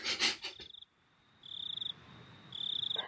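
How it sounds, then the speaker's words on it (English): Cicadas from the night scene of the game Higurashi When They Cry: a steady high-pitched buzzing drone that swells in two sustained bursts with a pulsing trill, preceded by a brief louder rustling onset, then a quiet gap between the bursts. "on a clear night, you can hear the cicadas"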